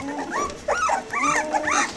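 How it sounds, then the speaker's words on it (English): A dog gives a series of short whimpering yips and whines, several rising and falling cries close by in a home, with no talk. "she goes, woof, woof"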